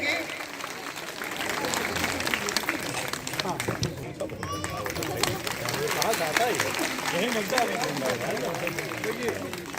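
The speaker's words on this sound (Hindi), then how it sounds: "मुख्य अतिथि जी का तो जोरदार तालियों की गड़गड़ाहट उस स्वागत में चार चांद लगाने का काम करेगी।" Audience at a Nari Shakti Vandan women's conference in Gonda applauding to welcome the chief guest, a sustained dense patter of clapping from a large crowd with voices talking over it.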